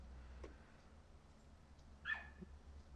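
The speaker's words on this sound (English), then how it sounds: "you can hear dogs squealing that's outside" A dog outdoors gives a single faint, high squealing whimper, heard alone at a distance against a low background hum.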